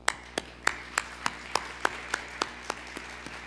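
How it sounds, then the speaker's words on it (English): Sparse, slow claps at a nursing pinning ceremony honoring faculty, about a dozen evenly spaced sharp hand claps over a low steady hum, fairly quiet and distant rather than a full crowd ovation. "If we could give them a round of applause."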